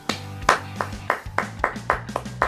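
A single person claps hands about ten times in an uneven rhythm, close and crisp, with no talking.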